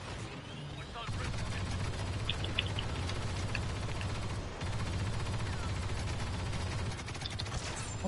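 Sustained automatic gunfire in a video game, a dense, loud rattle of rapid shots running almost without a break, with a short pause partway through and faint chirps and mechanical clicks mixed in.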